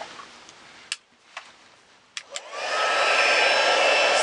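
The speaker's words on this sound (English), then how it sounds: "As soon as I find my heat tool." A handheld craft heat tool blows hot air to melt glue dots on a paper card. It switches on after a few clicks and taps, then holds a steady, loud, close whoosh.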